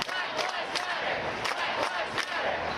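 A protest crowd marching in Manhattan for George Floyd: dense, continuous crowd noise with chanting and shouting voices rising in repeated waves, close and loud.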